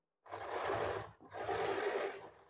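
A sewing machine stitches an umbrella frock in two close, steady whirring runs separated by a brief pause, loud and alone without talk.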